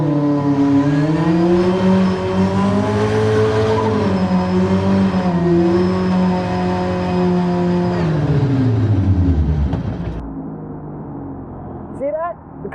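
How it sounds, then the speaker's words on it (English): A car doing a standing burnout, engine revving hard and holding high, then winding down over several seconds before cutting off, with a person talking at the end. "That's what we call a standing burnout."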